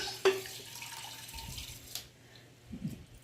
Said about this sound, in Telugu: పెరుగు వేసుకొని ఇందులోనే 1 గ్లాస్ వాటర్ పోస్తున్నాను.